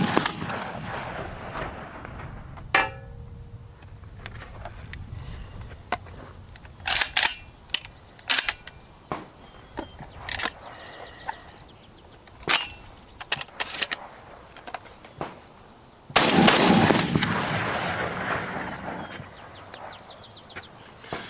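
Shotgun blasts from a Beretta A400 Extreme Unico and a Remington Versa Max ring out as several sharp, loud, separated reports over about twenty seconds, one followed by a longer rumbling burst, with no talking.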